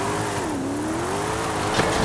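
A car driven in Forza Horizon 5 with a steering wheel: a steady, close engine drone that dips and rises in pitch as the revs shift, with a brief whoosh near the end and no talk.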